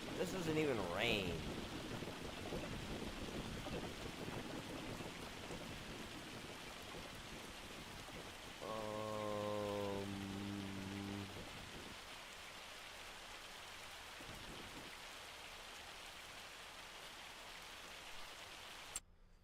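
Rainfall in Farming Simulator 25, a continuous soft patter of rain on surfaces with a brief voice at the start and a short steady tonal game sound midway.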